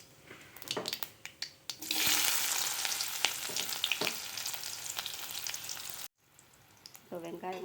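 Onions frying in hot oil with mustard seeds, urad dal and cumin for an egg mass curry, starting with a few sharp pops, then a loud, dense sizzle that cuts out abruptly before faint stirring clinks return.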